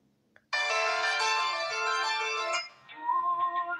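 A Redmi 9A phone plays a ringtone, a loud, bright electronic melody that starts abruptly after a faint tap, holds steady for two seconds, then shifts to a lower, softer phrase.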